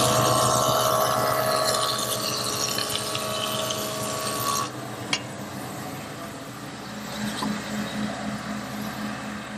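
A woodworking jointer with three carbide cutters on a heavy wheel shaves wood, giving a loud steady high whir that drops to a lower hum as the pass ends, with a sharp knock partway through.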